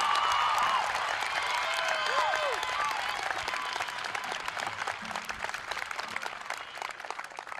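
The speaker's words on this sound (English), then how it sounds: "Please give them a round of applause." A crowd at a high school graduation ceremony gives a sustained round of applause for top students, a thick, continuous patter of clapping with a few whistles and cheers early on, slowly easing off.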